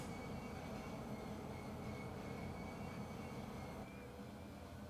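A locomotive on the Wallace Branch pulls forward on the rails, giving a steady low rumble with a faint high wheel squeal, even and unbroken throughout, with no voices.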